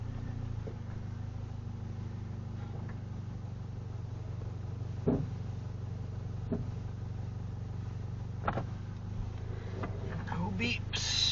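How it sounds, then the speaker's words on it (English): Toyota GR86 cruising at night, captured by a VIOFO A119 dash cam inside the cabin: a steady low engine and road drone runs throughout, with a few faint clicks and thumps over it and speech heard intermittently. "this is sound test on the Viofo Dashcam, and going for a night drive test"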